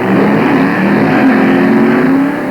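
A 1965 top gas drag racing car makes its run, a loud continuous engine roar with steady rising tone, sustained without break and heard alone.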